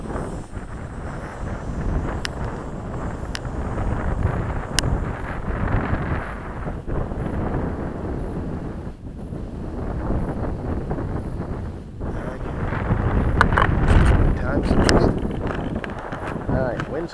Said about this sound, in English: wind's coming